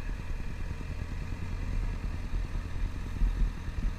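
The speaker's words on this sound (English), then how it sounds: "The whole time I'm feathering the clutch here in order to keep my speed down" Motorcycle making a slow speed turn with the clutch feathered, its engine at low RPM producing a steady, close low-pitched putter with slight surges and no voices.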